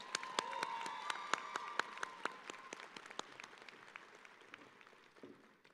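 Scattered applause from an audience at a university spring commencement ceremony, distinct individual claps ringing out fairly faintly and thinning away to quiet.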